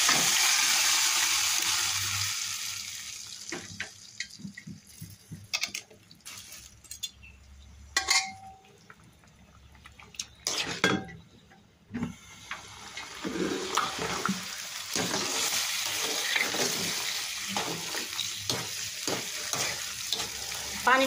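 Bottle gourd tipped into a pan of fried shrimp and onion, giving loud sizzling frying with stirring and clinks of a utensil, briefly quieter in the middle before the sizzle swells again.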